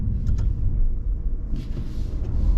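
Steady, loud low rumble of an Alfa Romeo Giulia Veloce diesel engine heard from inside the car on a small road, with a faint lift in engine note around the middle.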